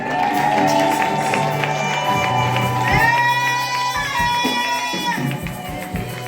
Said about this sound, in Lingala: Pourquoi vous avez applaudi pour Bora?